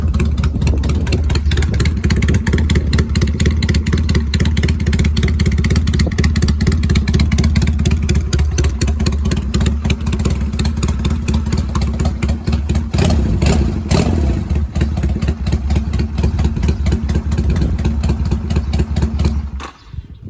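A 250cc Honda motorcycle engine runs continuously at a steady idle and mid revs, close and loud, with no talking.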